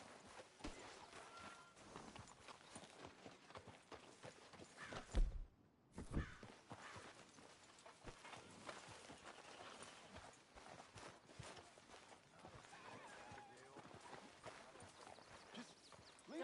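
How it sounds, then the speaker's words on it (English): Steady clip-clopping of horse hooves on a hard surface in the video game Red Dead Redemption 2, close and continuous, with a brief dropout midway and faint voices in the background. "Arthur, get that horse out of here."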